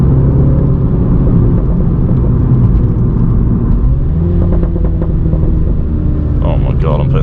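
A stock-exhaust Mini JCW F56 drives along with a steady, loud engine rumble and road whir throughout, the note shifting slightly as it pulls.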